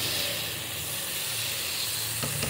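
Paneer sizzling in a hot pan gives a continuous, even hiss of frying that stays loud and steady throughout, with a couple of faint clicks near the end.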